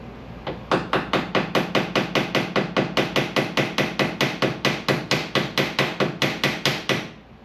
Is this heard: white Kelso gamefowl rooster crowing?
no